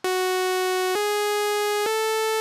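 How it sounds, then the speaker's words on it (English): A raw, buzzy initialized Sylenth1 software synthesizer patch plays three sustained notes in succession, each stepping slightly higher, bright and harsh with no effects. "There's also this second synth, which sounds like this, initialized."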